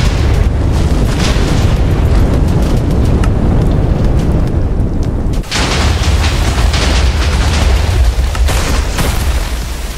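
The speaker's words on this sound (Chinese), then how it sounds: "就是你领域碎裂的声音" A domain-shattering effect from a Minecraft Jujutsu Kaisen battle between Sukuna's and Gojo's clashing domain expansions: a loud, sustained roaring explosion with crackling bursts and a brief dip midway before surging again.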